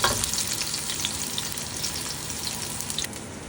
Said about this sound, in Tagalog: Magpainit ng mantika, ilagay ang onions at garlic, i-mix-mix